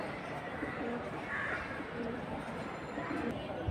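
High-flying pigeons coo low and steadily in a loft, faint against background chatter and a murmur of voices.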